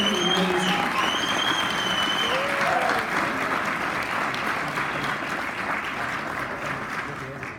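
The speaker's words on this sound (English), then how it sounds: "give them a round of applause, please, because they created something amazing." A crowd at a brewery social gathering gives a round of applause, a thick wash of clapping with a few whoops and cheers early on, gradually tapering in loudness.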